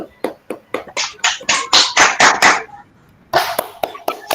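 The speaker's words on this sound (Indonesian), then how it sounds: "Tepuk tangan buat semuanya." A group of participants at a teachers' training session claps in a burst of rhythmic, loud applause. The clapping pauses briefly, then resumes for a few more claps.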